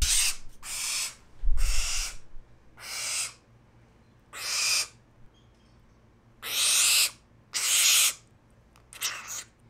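A captive young owl gives a series of about eight harsh, breathy hissing screeches, each lasting around half a second, with short pauses between them, loud and close.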